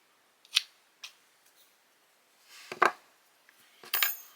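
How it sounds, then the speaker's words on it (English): Scissors snip through knitting yarn in a few short, crisp cuts and clicks, close and quiet, separated by silence. "Just going to cut the yarn, leaving a tail."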